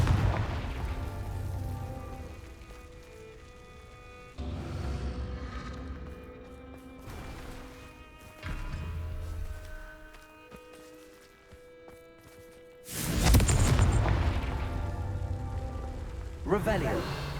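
Confringo explosive spell in Hogwarts Legacy, loud blasts that recur several times, with a sharp, heavy detonation near the end, a game soundtrack running between them and talk in places.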